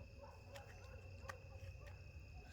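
Crickets chirp at night outside a rural house, a faint steady high trill with a few sharper clicks, calm and distant-sounding with no talk.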